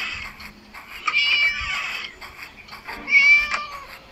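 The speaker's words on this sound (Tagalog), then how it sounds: "Meow, meow." A cat meows twice in the video game Scary Teacher 3D, two drawn-out high cries about two seconds apart over quiet background sound.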